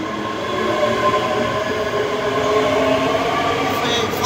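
A Class 385 electric train runs through Edinburgh Haymarket station, a steady loud rumble of wheels and motors with a sustained tonal whine holding throughout, no voices over it.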